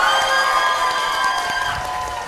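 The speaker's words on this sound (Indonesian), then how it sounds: "Berapa banyak tepuk tangannya?" Audience applause at a youth forum, a dense, loud wash of clapping and crowd noise that fades slightly toward the end.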